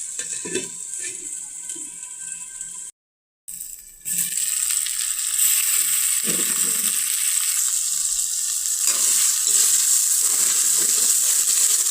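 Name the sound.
chopped tomatoes frying in pan for aloo gobhi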